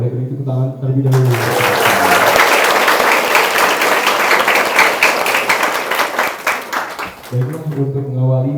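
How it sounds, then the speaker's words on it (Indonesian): Loud, sustained audience applause at an evening event of LKP Dua Bangsa Unit Cicataya, dense clapping filling several seconds, with a speaker's voice before it starts and again as it fades out. "Oke, boleh beri tepuk tangan terlebih dahulu."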